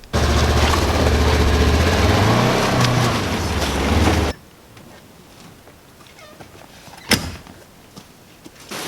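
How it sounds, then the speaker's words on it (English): Loud, steady motorbike engine running while the bike is backed up in a Canadian wilderness clearing, then cutting off abruptly partway through, leaving quiet outdoor background with a single sharp knock afterward. "So now I've got to back the bike up so I can load the stuff in it."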